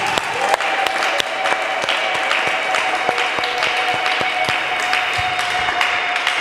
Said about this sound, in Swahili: Tunaweza kupigia Yesu makofi ya bien